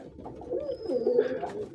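Pigeons in a pigeon house give a soft, low throaty coo, close and fairly quiet, rising and rolling over a short span with faint background hiss.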